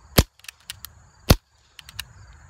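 Two sharp, loud pistol shots fired without a suppressor, about a second apart, each a crisp crack with faint clicks and rattles around them.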